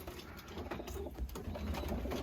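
Adolescent pigeons, a few months old, coo softly in a loft in spring weather, a low steady murmur of calls that stays faint throughout.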